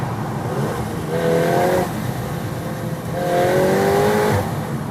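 A VW Golf R engine revs up twice inside a tunnel, each rising whine swelling and fading over a steady, echoing road rumble.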